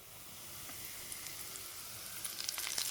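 Hot oil poured over mango pickle sizzles steadily in a home kitchen, a continuous bright crackle that builds and grows more spattery toward the end, with no voices.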